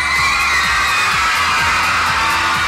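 Large crowd of fans screaming and cheering outside a celebrity appearance, a dense, continuous roar of high-pitched shrieks and whoops heard from a short distance, loud and steady throughout.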